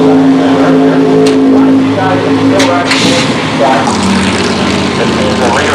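A drag race car engine roars loudly and steadily, its note shifting partway through, while a commentator talks over it.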